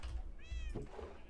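A single rising and falling cat meow from a survival video game, clear and fairly close, over a low background rumble.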